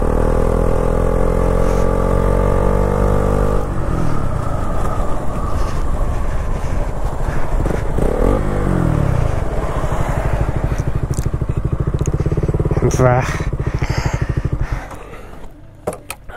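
A KTM Duke 200 motorcycle accelerating hard during a top speed test, its single-cylinder engine revving up through gear changes with loud, close buzzing roar and wind rush, easing off near the end.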